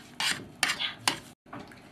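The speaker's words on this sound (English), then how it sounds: "Remove from heat and incorporate the coconut sugar, the quarter. Stir well" Spoon scraping and stirring coconut sugar into a mixture in a pot, off the heat, for a Brazilian dessert: three short bursts of clinking and scraping, close and moderately loud, with a brief silence before a fourth.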